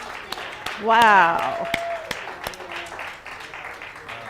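Applause from a congregation at a church service, scattered claps over a murmuring crowd while a voice rises in a brief exclamation partway through.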